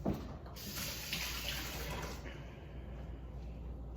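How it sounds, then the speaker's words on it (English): Running tap water splashes steadily as hands are washed at a kitchen sink, a continuous broadband wash of water throughout, fairly close with no clear speech over it. "Let me just wash my hands."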